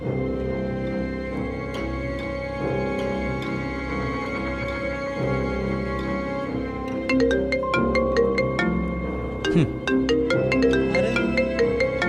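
A mobile phone ringtone plays a repeating electronic melody that keeps ringing unanswered for the whole stretch, layered and steady, with a brighter, busier pattern toward the end.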